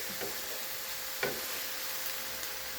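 Ube halaya is cooked over low heat in a pan, with faint stirring scrapes and a light sizzle at low volume. A couple of soft knocks stand out from the quiet background.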